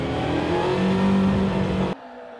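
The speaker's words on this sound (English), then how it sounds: "being aggressive on the throttle, making sure that I can hear that the engine was actually pushing a little bit" A race car at Suzuka Circuit revs hard under aggressive throttle through a chicane, loud and close with a rising engine note for about two seconds before cutting off abruptly.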